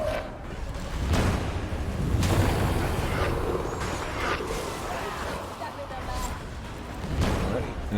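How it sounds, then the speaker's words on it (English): Explosion in the video game Warhammer 40,000: Darktide, heavy booms and bursts amid dense battle noise, loud and sustained, with a voice talking over it. "Big explosion."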